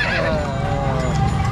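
A horse whinnies loudly and close at a Kuda Renggong dancing-horse parade in Cileunyi, one long wavering neigh over busy crowd noise and talk.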